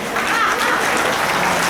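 Continuous audience applause during a Shrimad Bhagwat Katha gathering in Hoshiarpur, Punjab, a dense, even wash of many hands clapping at steady volume.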